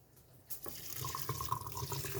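Hot water pours from a tap into a kitchen sink, starting with a sudden splash and then running as a soft, steady trickle with faint dripping, close but quiet.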